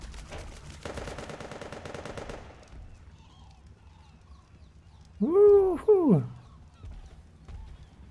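Two fireworks bursting in the survival game Ark: Survival Evolved, each a loud whistling, arcing whoosh close together around the middle, after an earlier stretch of rapid crackling; otherwise quiet.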